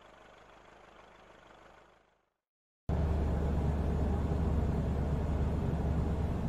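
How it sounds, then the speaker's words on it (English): An SUV engine idling, a steady, loud, continuous rumble that starts abruptly after a short silence and runs evenly to the end, following a fainter noisy stretch. "SUV."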